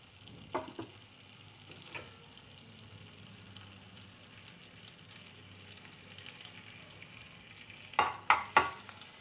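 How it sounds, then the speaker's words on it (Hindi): Cumin seeds roasting in hot butter and oil for a mushroom sweet corn Maggi, a faint low steady sizzle with soft stirring clatters near the start and three sharp utensil knocks near the end. "जीरे को अच्छे से भून लेंगे"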